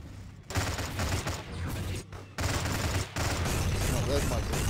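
Sustained gunfire in the video game Stargate Galactic Conquest, a dense chatter of shots with brief pauses between bursts, at moderate loudness under speech.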